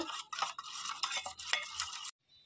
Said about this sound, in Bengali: স্বাদ মতো নুন, তেল দিয়ে দিচ্ছি। সবগুলো উপাদান আমরা ভালোভাবে মিশিয়ে নেব।